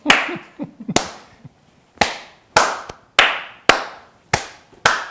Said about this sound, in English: always eye contact first, and I'm just going to clap.